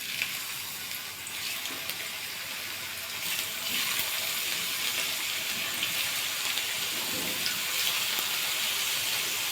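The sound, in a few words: potato slices frying in hot oil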